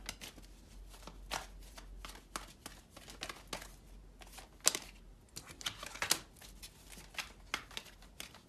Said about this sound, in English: let's get a few cards out